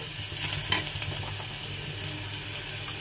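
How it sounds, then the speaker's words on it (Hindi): Onions frying in oil in a pan after cumin, for a mint and potato curry, giving a steady close sizzle with light stirring clatter throughout, no voice. "अब हम इसमें प्याज डालेंगे और प्याज को भूनेंगे।"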